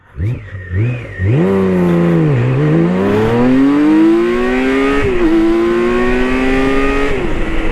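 A BMW K 1600 GTL motorcycle's 160-horsepower six-cylinder engine revs up hard from 0 to 100 km/h, climbing steadily in pitch through one gear change, loud and close, no talking.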